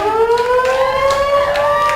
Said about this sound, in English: as the siren goes